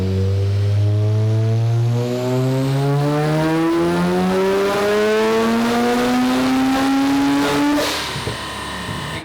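A 700 HP Mazda RX-7 engine in a 2200 lb car revs steadily upward to 7,500 RPM, a loud rising rotary howl with no talk, then drops off sharply near the end.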